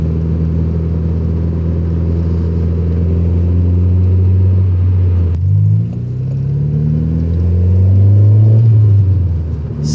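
Interior engine drone of a Honda Prelude with a manual gearbox, a steady loud rumble whose pitch drops with a gear change midway and then climbs again as it accelerates, no talking.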